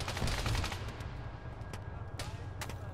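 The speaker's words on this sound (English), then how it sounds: "Firing east." Gunfire in the military video game Arma during a ShackTac squad operation, with dense rapid shots at first, then scattered sharper bursts over a rumbling background at moderate loudness.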